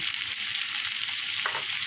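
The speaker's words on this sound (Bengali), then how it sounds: "চিনি দিয়ে একটু নাড়বো লতিটা ভেজে যাবে" Colocasia stolons fry in a pan with pumpkin, onion, green chilli and sugar, giving a continuous close sizzle with faint stirring scrapes and no voices.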